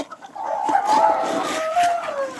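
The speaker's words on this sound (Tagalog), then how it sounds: "pakainin naman natin yung mga manok" Chickens clucking and crowing on a farm as they are fed, with several birds calling close by in overlapping bursts and one drawn-out rooster-like call, under faint background sounds.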